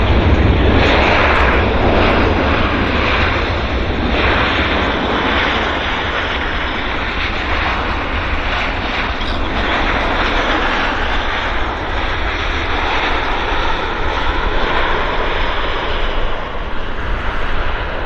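An arriving airliner at Vancouver International Airport (YVR) roars loudly and continuously with a broad jet engine rush that holds steady for about eighteen seconds, with no speech.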